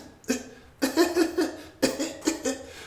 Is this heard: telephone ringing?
no